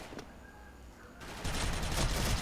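A suppressed M4A1 rifle fires in the Special Force shooter game: quiet ambience first, then dense rapid automatic bursts take over for the last second, loud and close.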